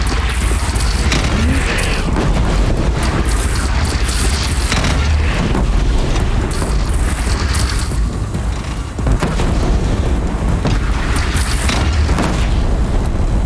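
A machine in Horizon Zero Dawn fires on the player's platform, making a dense, continuous barrage of loud, rumbling booms and blasts that stays heavy throughout with only a brief dip in the middle.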